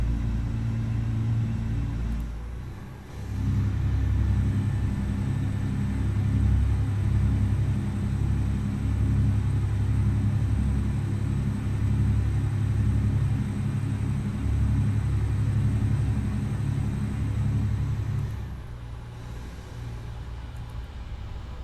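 A Freightliner truck engine with an Ultra Shift gearbox in American Truck Simulator drones in a steady, loud, low rumble that dips briefly near the start and eases off near the end.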